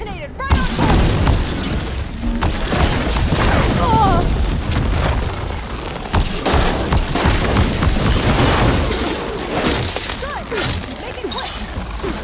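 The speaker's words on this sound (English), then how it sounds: "Detonated right on top!" A large detonation in the game Horizon Forbidden West bursts in loud and close, then trails into crashing debris and rumbling chaos. Game voices chatter over the noise.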